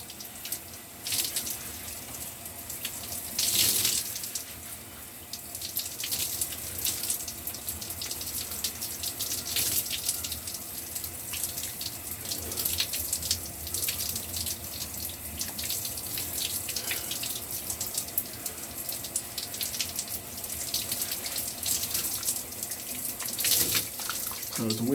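A tap runs steadily into a sink while a soapy beard is rinsed, a constant close hiss and splash with small shifts in flow that carries on for the whole stretch.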